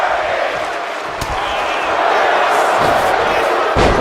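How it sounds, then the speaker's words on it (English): Wrestling arena crowd chanting in unison, a loud, dense roar of many voices filling the space steadily throughout with occasional sharper bursts. "What a unique thing for the crowd to be chanting right now."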